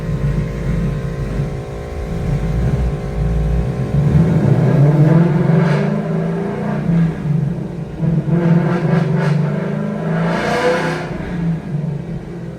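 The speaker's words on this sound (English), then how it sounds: "here we go for pull number one on Alex's car." A 2023 Mustang GT with a manual transmission revs on a dyno during a pull, starting from a steady idle rumble, then climbing in loud rising sweeps with a pause between runs.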